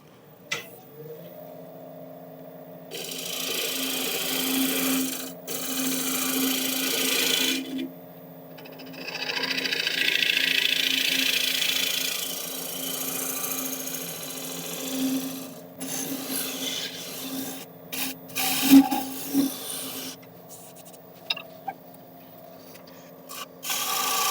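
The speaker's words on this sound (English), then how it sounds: "I'll get in there with a scraper" Rasping scrapes of a scraper against London plane wood turning on a lathe, coming in sustained bursts with brief pauses and a steady machine hum underneath; close and fairly loud.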